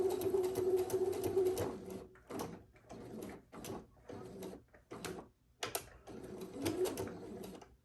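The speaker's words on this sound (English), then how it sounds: "just make sure that you're sewing on the line between number 5 and number 7. And I'm back tacking at the beginning and the end." A sewing machine stitches a quilt block in short bursts of rapid mechanical whirring, with brief pauses and clicks between runs as it back tacks, heard close and moderately loud with no talking.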